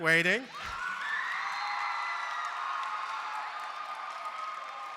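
Audience applause and cheering greet a speaker stepping up at a mental health event, a steady crowd wash sustained from start to finish after a brief voice at the very beginning.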